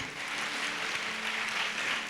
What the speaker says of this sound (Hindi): जोर से ताली बजे।